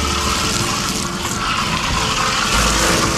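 A pressure-wash sprayer blasts soap foam onto a Toyota minitruck with a loud, steady hiss of spraying liquid, close and continuous throughout.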